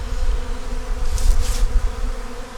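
Honey bees buzz steadily inside a hive box, a dense continuous hum close to the microphone with a brief brighter swell partway through.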